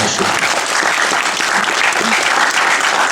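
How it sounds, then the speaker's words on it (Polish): Audience applause at a gala in a care home setting, dense and sustained throughout, loud and close, with a faint voice briefly audible beneath the clapping. "Można jakieś brawa."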